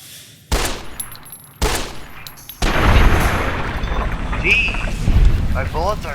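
Gunfire in Fallout: New Vegas at Goodsprings, opening with two sharp, separate shots and then a third that breaks into a loud, sustained barrage of shooting and booms, with voices faintly underneath.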